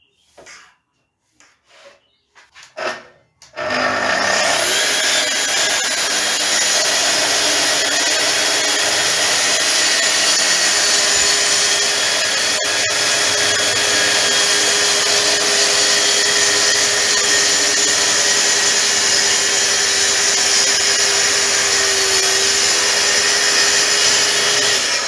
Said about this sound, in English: I'm using the tri-steel track saw